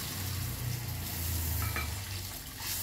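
Water from rinsing a bowl goes into onions and mustard paste frying in a pan, with a steady close sizzle and bubbling that carries on through without a break, and no talking.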